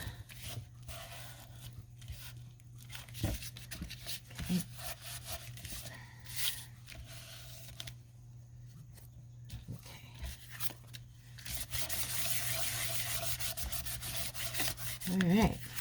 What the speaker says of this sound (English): We're just going to rub it down.